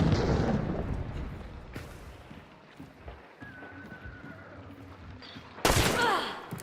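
Gunfire in a multiplayer shooter video game: muffled, scattered shots within dense, noisy game ambience, with one sharper burst near the end and no clear talk.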